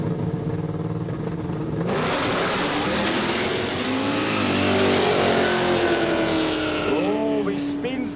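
A no-prep drag car launches hard at a quick street event, its engine snarling up loud as the tires spin, with a rising rev and crowd and commentary noise around it.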